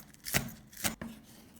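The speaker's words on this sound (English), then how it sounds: "Take a small amount of green onion, chop finely." A knife chopping green onion finely on a cutting board, giving three crisp, close chops spaced unevenly, the last one short.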